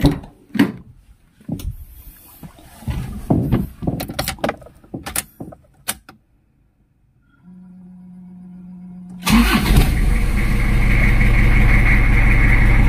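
A 2000 Toyota Kijang LGX family car with a diesel engine is started: after clicks and handling noises comes a brief starter whine, then the engine catches into a loud, steady, close diesel idle.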